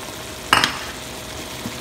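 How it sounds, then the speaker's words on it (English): Chana greens tipped into a hot pan of tomato curry, giving a short burst of sizzle and frying hiss about halfway through, then a quiet simmer. "Now I'm going to add greens."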